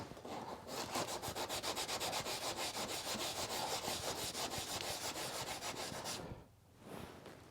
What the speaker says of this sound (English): and give it a scrub